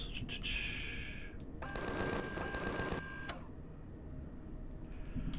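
Rapid automatic gunfire from a weapon fired at golems in the video game Empyrion, a dense burst of about a second and a half over a steady vehicle rumble.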